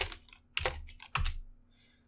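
A few quick keystrokes clatter on a computer keyboard, with three or four close, distinct taps followed by a short pause, in a quiet room with no talking.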